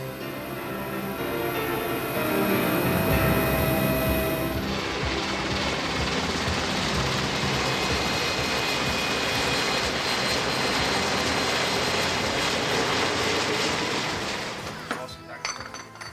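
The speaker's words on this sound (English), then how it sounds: "Slowly, the sound of engines fill the air. Some pilots perform engine checks." Military aircraft engines run up during pre-flight engine checks at an air force base, a loud continuous roar that swells after a few seconds and holds steady before tapering off near the end.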